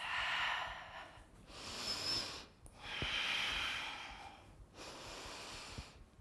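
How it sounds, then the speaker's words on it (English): Deep, slow breaths during a yoga flow, three long airy inhale-exhale swells close to the microphone with brief pauses between them, no talking. "Big, big breaths"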